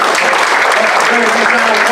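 Loud, dense applause from a mentalist show audience fills the whole stretch, steady and close, with a voice faintly audible over the clapping.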